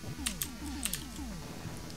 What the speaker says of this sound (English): kind of feels awkward playing on a keyboard